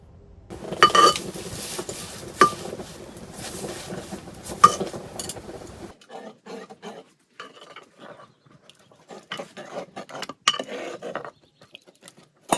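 Pots and utensils clink and scrape as a stinging nettle dish is cooked in a Nepali village home, with sharp metallic clinks over a busy, clattering background, then quieter scattered taps and stirs.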